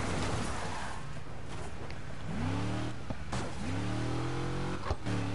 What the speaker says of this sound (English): Can you hear the difference in this car?